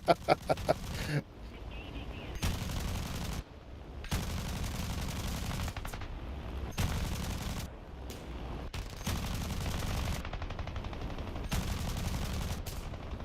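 Aircraft guns fire at high altitude in War Thunder, opening with a few quick, crisp shots followed by a series of long, sustained bursts broken by short gaps, moderately loud throughout.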